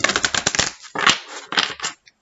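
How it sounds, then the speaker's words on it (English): A tarot card deck is shuffled by hand, giving several quick papery riffles and flutters in short bursts, close and fairly clear, with brief pauses between them and nothing else heard. "Okay, I'll do one final shuffle."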